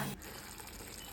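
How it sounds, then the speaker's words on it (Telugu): About half a glass of water is poured into a pesarattu curry cooking in a pan. It makes a steady, fairly quiet gush of liquid, heard up close, with no voice over it. "ఒక 1/2 గ్లాస్ నీళ్ళు వేసుకొని"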